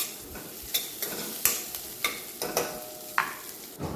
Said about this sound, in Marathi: कांदा 2 ते 3 मिनिटं परतून घ्यायचा.